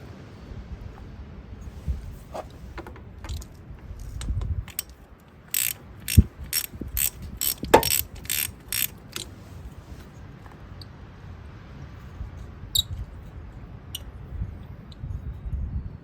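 A hand ratchet clicks as it works an old spark plug out of the cylinder head of a 1978 Honda CB400 motorcycle, with irregular bursts of sharp close ratcheting separated by quieter gaps and no speech.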